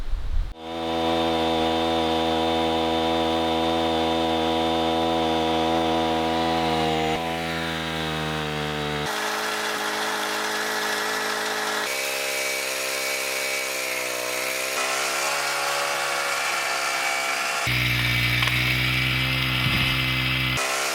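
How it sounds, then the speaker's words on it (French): A Portable Winch PCW3000 runs continuously while winching rope, giving a loud, buzzing engine drone that shifts pitch several times as the load changes. "en tirant sur la corde, quand le tambour va retourner, mon treuil lève"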